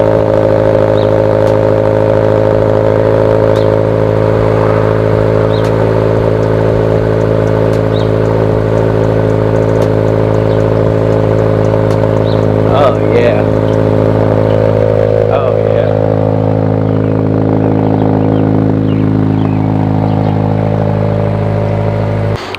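Toyota 86 with an Invidia N1 exhaust idling after a cold start, a steady, loud droning rumble that holds for the whole stretch, with people talking briefly partway through.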